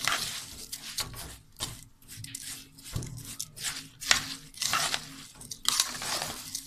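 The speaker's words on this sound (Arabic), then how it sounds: "هنقلبه بقى مع الرز كده" Fried onion that was blended smooth is stirred into rice in a pot for Egyptian fish sayadeya, giving irregular scraping and clinking of a spoon against the pot at close range, with no talk.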